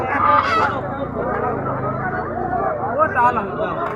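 Ducks at a busy market honk and quack in bursts close by, mixed with the hubbub of people talking.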